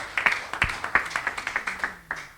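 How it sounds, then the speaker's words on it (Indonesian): A church congregation claps their hands in scattered, uneven claps. The sound is close and fairly sparse, more like a few people clapping than a full crowd, and lasts only a couple of seconds. "tepuk tangan buat Tuhan Yesus"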